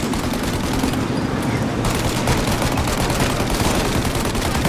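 A dense, loud barrage of gunfire fills a shootout in the Mafia video game, continuous and roaring with little pause from start to end.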